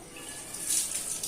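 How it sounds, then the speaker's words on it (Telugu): Water pours in a short, soft, splashy stream onto potted plants in a home garden, swelling slightly midway and staying faint with no talk over it. "ఇప్పుడు మనం ఇందులో నీళ్ళు వేస్తున్నాం."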